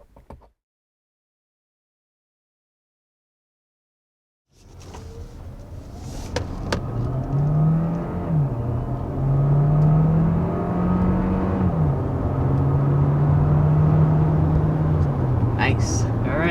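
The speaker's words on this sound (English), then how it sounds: "that was all the way up to 65 miles per hour with this Tucson hybrid" A 2022 Hyundai Tucson hybrid accelerating up to 65 mph: after a silent gap, a rising engine and road roar swells and holds loud, with a tonal whine climbing through gear changes, a few clicks, and a voice speaking partway through.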